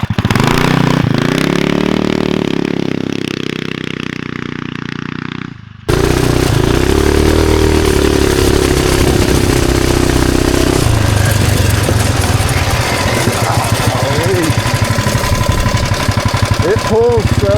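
A 420cc big-block engine swapped into a mini bike with a CVT revs hard and loud, its pitch climbing under acceleration before dropping briefly and surging again, with a rough, steady drone and a person speaking over it.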